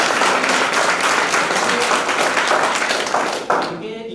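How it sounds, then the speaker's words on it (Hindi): Dense audience clapping for a student speaker at a motivational talk, steady and loud for several seconds, then tapering into a few scattered claps with faint murmuring. "और दिल से एक बार फिर से ताली में बजाना।"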